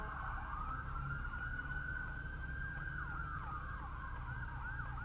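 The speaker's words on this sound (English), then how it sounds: "I hear another siren. It's coming from the right." An emergency vehicle siren wails continuously in busy street traffic, heard from inside a stopped car at an intersection, steady and moderately distant with a low road rumble underneath.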